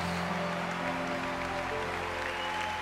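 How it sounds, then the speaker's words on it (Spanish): A church congregation applauds Jesus in a steady, dense wash of clapping that holds without pause, fairly soft and distant, with no clear voices on top. "dale fuerte el aplauso a Jesús"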